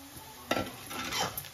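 Sliced onion and green chillies fry in a pan for a tomato curry, with a soft steady sizzle and a few quick spatula scrapes and stirs close up.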